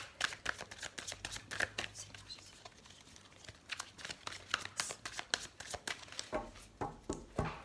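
A tarot deck being shuffled by hand: close, brisk bursts of card riffling and patting repeat steadily over several seconds, with no other sound competing.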